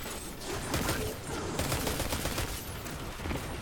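Rapid, dense gunfire in the Destiny 2 video game, a continuous spray of shots with repeated sharp cracks, moderately loud and heard with no talk over it.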